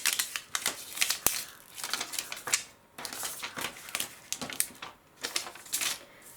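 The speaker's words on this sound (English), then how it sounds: "let's pull the backing tape from the transfer tape, or the backing from the transfer tape" Backing sheet peeled off vinyl transfer tape for a Cricut-cut glow-in-the-dark Halloween sign, heard as close, crackly ripping and crinkling bursts that come in uneven pulls with brief pauses between.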